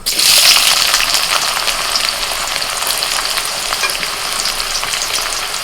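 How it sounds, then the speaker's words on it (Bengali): Chopped onion drops into hot white oil in a wok already seasoned with bay leaf, cardamom, cloves and cinnamon, bursting into a loud, close sizzle that settles into a steady crackling fry with faint stirring. "এবার দিচ্ছি পেঁয়াজ কুচি"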